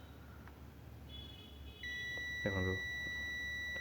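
A multimeter held on oven circuit-board components gives a steady electronic continuity beep that starts partway through and holds to the end, clear and close. Someone speaks briefly over it.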